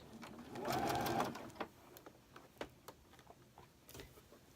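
Sewing machine stitching quilt sashing with black thread, a 12 needle and 2.5 inch stitch length, a short close whirring run followed by scattered soft ticks and clicks.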